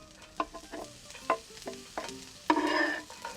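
Diced Trader Joe's potatoes frying on the back burner of a small home stove, a soft sizzle under several light scraping and tapping stirs, ending in a brief louder crackling burst.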